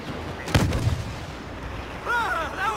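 A rocket explodes in Star Wars Battlefront on Jawa Refuge, giving one sharp, loud blast followed by a short rumble, with game sounds and chatter afterward.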